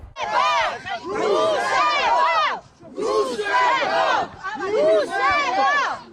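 A large crowd of protesters shouts and chants at Georgian Dream leaders at the April 9 memorial: loud, close, continuous massed voices with a short lull partway through before the yelling surges again.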